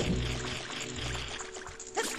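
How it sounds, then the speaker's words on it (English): A character swimming in water in Ocarina of Time, with a continuous watery splashing and pouring wash close up, steady throughout with a small splash near the end. "And we're in water. We're swimming."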